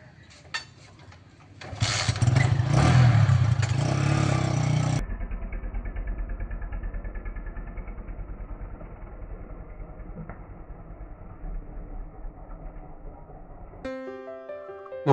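A motorcycle engine starts up after a quiet moment and then runs at a steady, close, rumbling drone while riding to a Durga Puja pandal, ending with a brief musical jingle.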